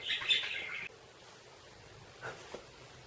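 Budgie chirping indoors, a short bright burst of warbling chatter followed by quieter scattered chirps, close and alone.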